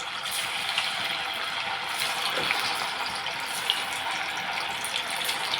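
Poha vadas dropped into hot oil keep up a dense, even sizzle and bubbling, close by and steady, with no talk over it.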